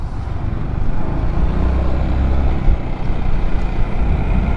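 A Forza 350 scooter engine runs loud and close, a continuous low, throaty rumble with slight surges in intensity across the few seconds.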